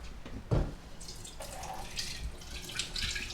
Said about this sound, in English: Give that a little rinse.